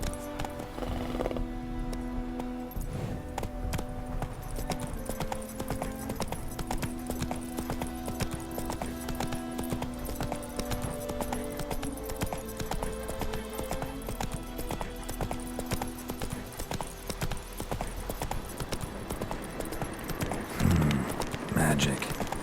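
Roach the horse gallops in The Witcher 3 on PlayStation 5, steady clip-clop hoofbeats running the whole time with an occasional whinny, layered under game music and ambience.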